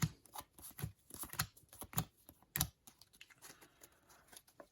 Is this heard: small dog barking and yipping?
no